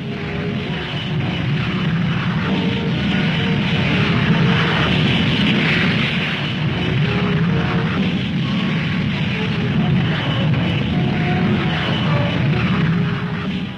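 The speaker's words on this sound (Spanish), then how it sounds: "comienzan a despegar los aparatos T-33 y los F-86" T-33 and F-86 military jets taking off, a loud continuous roar and rumble of jet engines holding steady throughout, with no talking.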